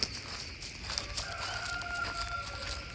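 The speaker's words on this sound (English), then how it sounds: "I don't know if you can hear the bird sounds." A rooster crows faintly in the distance outdoors, a drawn-out call over quiet background air.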